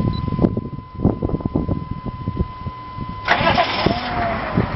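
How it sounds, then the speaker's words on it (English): A car engine being cranked and started after repair work on a vehicle with about 2,000 miles: rapid starter chugging that catches into a steadier, louder running engine, with a whining drone underneath. "Cranks right up. That's how it's supposed to work."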